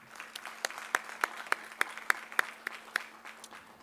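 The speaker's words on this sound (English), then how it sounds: "let's give her a round of applause" Sparse applause at a school board of education meeting: a handful of distinct, loud claps in a loose rhythm over a quiet room with a faint steady hum.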